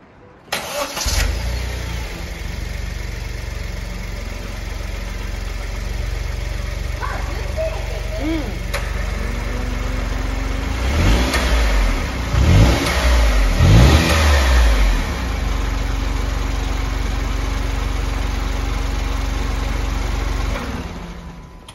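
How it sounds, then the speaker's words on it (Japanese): A Honda S660's engine cranks and starts, idles steadily, then revs up a few times before settling back to a steady idle. "ちょっとエンジンかけてみます"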